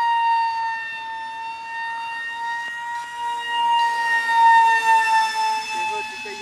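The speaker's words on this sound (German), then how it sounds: "Wenn der Sound nicht wäre von dem scheiß Propeller" A mini jet model aircraft's propeller gives a steady, loud, high-pitched whine with strong overtones, holding nearly constant pitch with a slight shift partway through, continuous and alone.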